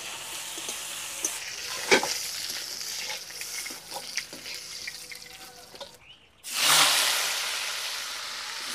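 Pointed gourd coated in salt and turmeric fries in white oil, a dense crackling sizzle broken by sharp spatula knocks, then a short pause before a loud fresh burst of hissing.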